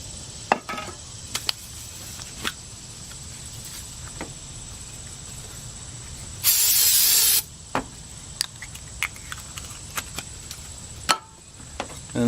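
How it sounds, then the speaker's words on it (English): Brake part cleaner sprays onto an aluminum surface during timing belt work on a 2011 Subaru Impreza, as one loud, close hiss lasting about a second amid light tapping and handling sounds. "So I'm going to use my brake part cleaner."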